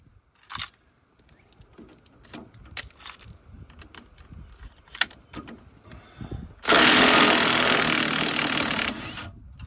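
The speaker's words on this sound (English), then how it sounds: "This is why I use Milwaukee. Make light work of that bolt." Milwaukee cordless impact tool breaking loose a bolt during CV axle replacement on a 1999 Ford F150, a loud sustained rattling hammer burst of about three seconds following scattered clanks and handling noises.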